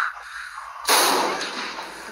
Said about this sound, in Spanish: Ahora pego un disparo.